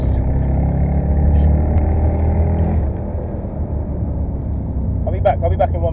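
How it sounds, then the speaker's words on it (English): Loud, steady engine and exhaust drone from a Mercedes-Benz SL500 running close by, holding a rough rumble throughout with a slight drop partway and brief higher flutters near the end. "The exhaust."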